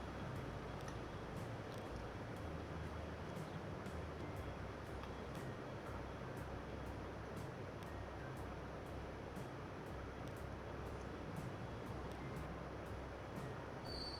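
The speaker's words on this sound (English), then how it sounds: "He's the train that's just pulled out." A train pulls out in the Transport Fever 2 simulation game, heard as a steady, loud rolling rumble with faint wheel hiss that holds unchanged throughout, with no talking.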